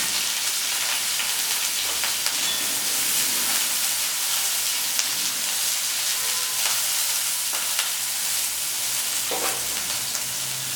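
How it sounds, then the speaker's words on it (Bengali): Chopped onion sizzles and spits in hot refined oil in a kadai, a steady bright frying hiss with occasional crackles and faint stirring, close and continuous with no talking. "তেলটা গরম করে এতে দিয়ে দিচ্ছি পেঁয়াজ কুচি"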